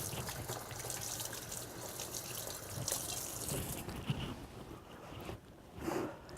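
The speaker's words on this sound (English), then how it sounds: "I'm going to wash my hands off here." Kitchen sink tap running steadily while hands are washed, a continuous close water hiss with small splashes and shifts in the flow, and no talk.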